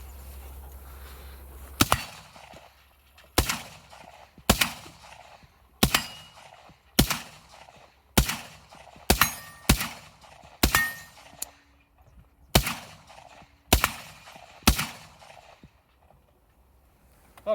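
An AR-15 rifle shooting 7.62x39 AK ammunition fires about a dozen loud single shots at uneven intervals of roughly one to two seconds, each crack followed by a short echoing decay, outdoors with no talking.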